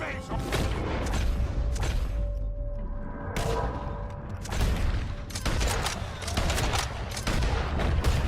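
Rapid bursts of gunfire and loud shots from a Red Dead Redemption 2 shootout, dense and continuous with booming reports, while a character's voice speaks over the battle.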